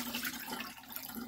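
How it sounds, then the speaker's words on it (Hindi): Three glasses of water poured over one and a half glasses of rice in a pot for cumin rice, a steady splashing, gurgling pour that runs through the whole moment with no talking. "इसके लिए हम 3 गिलास पानी डाल देंगे"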